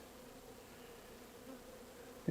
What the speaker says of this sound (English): But I'm in a big cloud of bees.